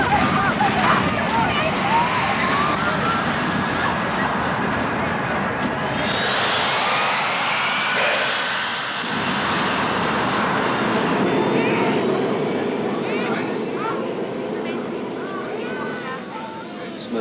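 Airliner jet engines roar during descent in an action-movie scene: a loud, continuous broadband rumble with a swelling whoosh midway and a faint voice blended into the mix.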